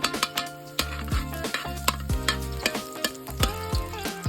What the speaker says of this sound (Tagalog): doon na rin tayo magigisa ng konting bawang